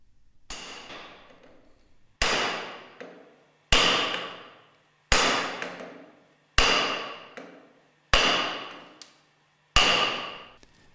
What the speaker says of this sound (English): Place on a hard PVC mandrel and lightly hammer the clutch driver downwards.